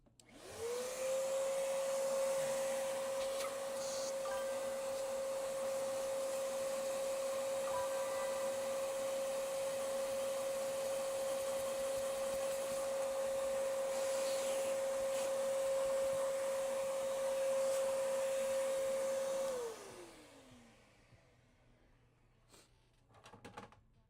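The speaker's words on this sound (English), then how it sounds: "Let me at least use a shop vac on this thing." A shop vac runs on a game console being repaired, a loud steady whine with a constant high tone that holds for about twenty seconds before the motor winds down and stops.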